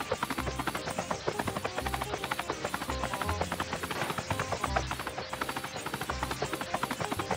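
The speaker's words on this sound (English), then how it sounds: "If we start the engine of a helicopter and move it," A helicopter engine in the video game Melon Playground thuds in a fast, steady, chopping rotor rhythm, moderately loud and continuous, with no voices.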